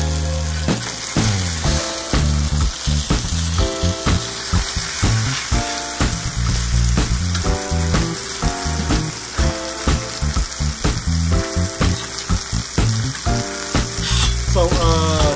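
Salmon fillets sizzle steadily on a flat top grill that is not yet fully seasoned, a continuous close frying hiss with scattered pops and clatter, accompanied throughout by strong tonal background music.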